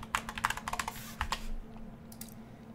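A password is typed on a computer keyboard as a quick run of crisp, close keystrokes over a low background hum, ending in a couple of final taps.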